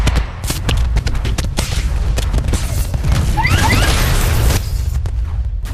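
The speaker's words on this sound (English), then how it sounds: "That's when a pilot climbs on top of your Titan, starts ripping pieces off and shooting into the Titan itself." In the video game Titanfall, a pilot rips pieces off a Titan amid loud metallic crashes, bangs and whooshes, with dense gunfire-like impacts and a constant low rumble.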